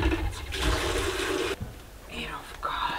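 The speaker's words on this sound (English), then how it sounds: "and I'll put some water in the kettle," Water running into a kettle in a safari lodge kitchen in Namibia, a steady close rushing splash for about a second and a half, then quieter with a person talking softly over it.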